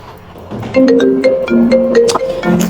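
A melodic phone ringtone plays a short repeating tune of clear electronic notes, loud and close, with no talking over it.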